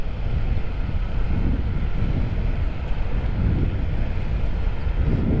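Wind roars steadily and loudly into the microphone of a rider on an electric skateboard with a helmet visor up, a constant low buffeting rush with no talk.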